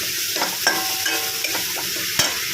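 Okra stirs in a hot pan with ground green chili, garlic and salt, a constant close sizzle broken by several sharp spoon scrapes and taps.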